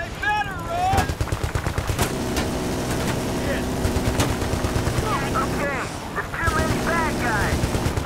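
Machine gun fire in the video game Battlefield Bad Company 2, loud sustained automatic bursts of rapid shots with brief pauses, mixed with other in-game gunfire and effects, and someone talking over it.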